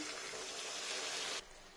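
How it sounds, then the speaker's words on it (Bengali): Water poured into a pan of rui fish curry with raw cumin paste, a steady close splashing gush lasting over a second before cutting off abruptly. "মশলা ধোয়া জলটা দিয়ে নিই"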